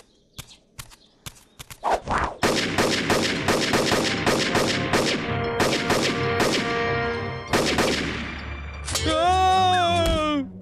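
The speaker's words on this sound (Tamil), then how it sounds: "துப்பாக்கி சத்தம் எங்க கேட்டுச்சு?" A rapid series of sharp, loud cartoon gunshots cracks out in uneven bursts, close by, followed by shouting voices.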